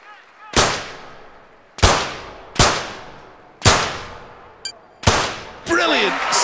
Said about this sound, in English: Terrific shooting here